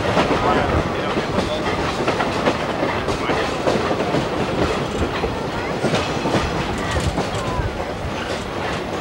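Skunk Train passenger cars rolling along the rails, a continuous close clickety-clack of wheels over rail joints with a rumbling undertone, steady throughout, with faint voices mixed in.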